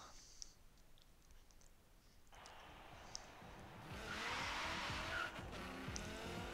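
A car drives in the racing game Forza Horizon 3, the engine droning low and then louder with rising revs, with a tyre squeal near the end and a few faint clicks.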